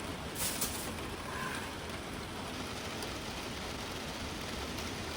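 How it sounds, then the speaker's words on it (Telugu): Steady rain falls with a constant, even hiss. No voices are heard. "ఇంకా వర్షం పడుతూనే ఉంది"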